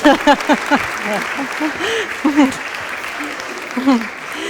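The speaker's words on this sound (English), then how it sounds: "let's give our friends a nice round of applause." An audience claps together after a stage presentation, a steady round of applause with a voice speaking over the start and occasional speech peaks throughout.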